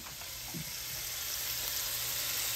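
Sliced bacon frying in a pan, a soft continuous sizzle with a faint scrape early on, low and steady throughout.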